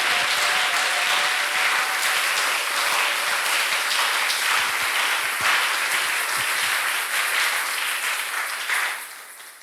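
A church congregation applauds steadily, a dense, loud wash of clapping that holds for several seconds before tapering off at the end.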